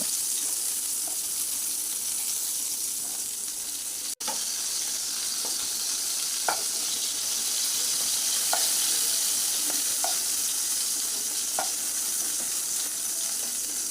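Pieces of eggplant frying in oil, a steady loud sizzle throughout with scattered faint clicks and scrapes as the pieces are lifted out, and one sharp tap a few seconds in.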